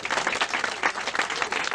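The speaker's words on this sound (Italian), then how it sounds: "Ok, un applauso al signor Gallo." An outdoor crowd at a classic motorcycle club awards gathering gives a short burst of applause, brisk and fairly loud, with closely packed claps and distinct individual slaps standing out throughout.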